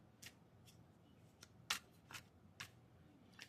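Tarot cards being shuffled by hand: a series of quick, crisp riffling bursts at irregular intervals, roughly seven snaps with one sharper, louder flick near the middle, close and alone over a quiet room.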